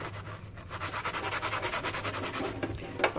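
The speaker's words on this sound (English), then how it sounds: "So I'll kind of scrub on that a little bit." A sponge scrubs a kitchen vent hood screen in rapid back-and-forth strokes, a close, steady rubbing rasp that runs for several seconds with no voices.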